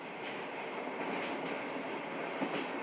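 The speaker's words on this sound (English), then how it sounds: "We're taking a mammoth 53-hour train ride" A long-distance passenger train rolls steadily along rails toward Russia after leaving Mongolia, giving a continuous, even rumble with faint rhythmic clatter and a brief squeal near the end, heard from inside with no talking.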